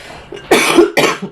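Two quick, harsh coughs, triggered by incense smoke, come from someone close by, one right after the other.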